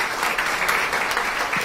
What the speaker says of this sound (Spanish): Un aplauso para Maciel.